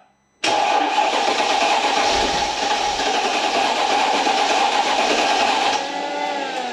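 A Mercedes CL55 AMG engine, unstarted for five years, cranks and catches, then settles into a loud, steady idle that carries on without pause.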